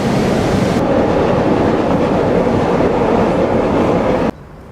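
A Chicago CTA train rides the rails with a loud, steady roar and rumble of wheels from the inside, cutting off abruptly near the end into quieter background.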